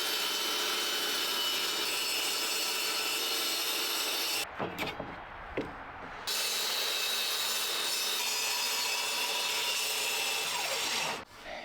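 A saw cuts through melamine board for a concrete countertop form, making a close, continuous grinding whine that breaks off for a short pause midway, resumes, and then cuts out just before the end.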